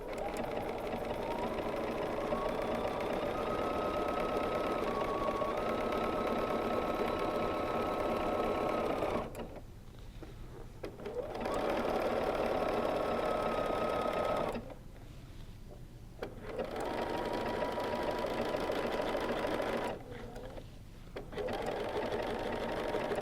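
A BERNINA sewing machine runs for free-motion quilting guided by a ruler, a close steady whirring hum in three long runs broken by brief pauses.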